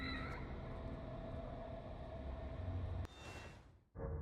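A cat meows repeatedly in The Evil Within survival horror game, soft drawn-out cries over a steady mechanical ambient drone, with a brief abrupt break near the end.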